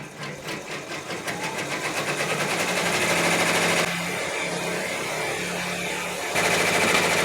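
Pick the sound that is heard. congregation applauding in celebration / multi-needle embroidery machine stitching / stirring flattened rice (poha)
multi-needle embroidery machine stitching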